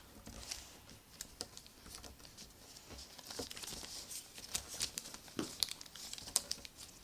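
Paper being folded into an origami eagle mini car, with quiet close crinkles, creases and soft taps coming in irregular bursts, growing busier and louder toward the end.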